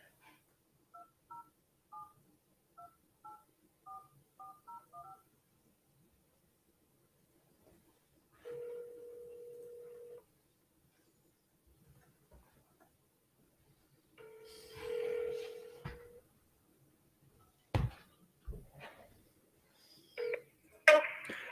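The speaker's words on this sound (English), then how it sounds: "We're going to see if it dials." Telephone keypad dialing tones while placing a cold call, a quick run of short paired beeps followed by longer call tones and some clicks and line noise, faint and without talk.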